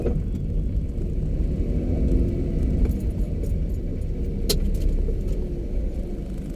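A Toyota Wigo with newly replaced shock absorbers drives along a road, its engine and tyre noise a steady low rumble heard from inside the cabin, with faint rattles and light clicks on top and no talk.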